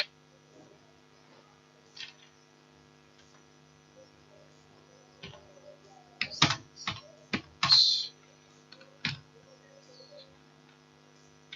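Scattered keystrokes on a computer keyboard while HTML code is entered, a few isolated taps and then a short cluster of quick, crisp clicks over a quiet electrical hum.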